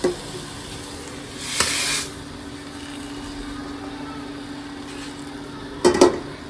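Boiled sour leaves dry-roasting in a pan give a low steady hiss, broken by a short burst of sizzle partway through and a brief clatter of the pan or spatula near the end.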